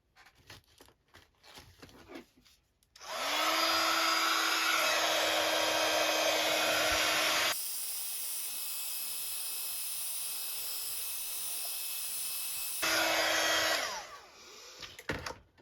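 A heat tool blows steadily to dry a fabric craft piece, a loud continuous whooshing hiss with a whining tone that runs alone for about ten seconds, shifting pitch midway, with faint handling before and after.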